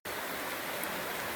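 Steady broadband rush of a flowing river where gold panning is under way, a continuous even wash of water that starts abruptly and holds without change.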